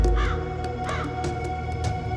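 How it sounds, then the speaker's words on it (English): Crows caw now and then at a short distance, each call a brief hoarse burst over a steady low ambient hum, in a hushed setting where someone has been left with a cloth bag over his head. "It was silent, but Harold could hear the occasional cawing of some nearby crows."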